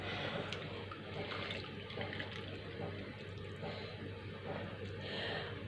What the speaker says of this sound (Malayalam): ഞാൻ 1 കപ്പ് ഇപ്പോൾ തേങ്ങാപ്പാലും കൂടെ ആഡ് ചെയ്ത് കൊടുത്തിട്ട് നന്നായിട്ടൊന്ന് ഇളക്കി കൊടുക്കുകയാണ്